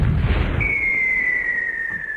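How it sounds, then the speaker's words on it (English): A cartoon cannon blasts with a loud boom, followed at once by a long, steady descending whistle as the shot flies off, heard alone without speech. "Well, he was fired from a cannon,"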